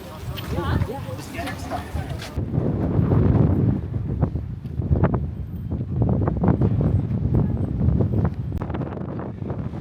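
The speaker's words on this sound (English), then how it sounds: "now we're down at the lake, and it is really windy and chilly" Strong wind buffets the microphone in heavy, uneven gusts at a lake in Tibet, roaring close and loud, with a voice talking intermittently underneath.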